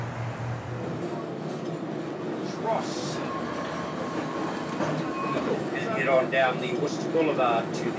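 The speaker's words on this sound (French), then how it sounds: "La ligne de tramway datant de 1905 a repris du service et propose à nouveau son circuit en centre-ville" A historic 1905 tram running through Christchurch city centre, a steady rolling rumble with faint rail clatter and a brief squeal, heard from nearby.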